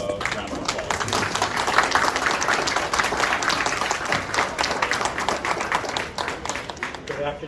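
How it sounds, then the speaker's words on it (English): An audience at a Porter Airlines launch event in Fort Lauderdale claps to welcome a speaker, producing a sustained, dense round of many hands that stays steady and fades slightly near the end. "give he and their airline a round of applause"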